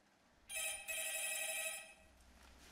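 A telephone rings in a horror film scene, one bright trilling ring with a brief break, then fading, heard clearly over a quiet room.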